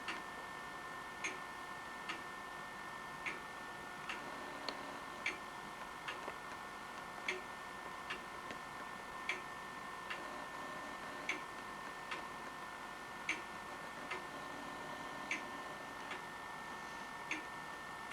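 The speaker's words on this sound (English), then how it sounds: "If you listen to the tick, it doesn't quite sound even." A grandfather clock ticks steadily, its beat slightly uneven and a little slow, with a regular run of sharp, fairly faint ticks alone in a quiet room.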